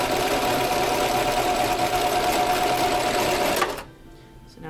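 Sewing machine running steadily as it stitches the armpit seam of a Renaissance dress, a close, loud mechanical whir held for several seconds before stopping abruptly into near quiet.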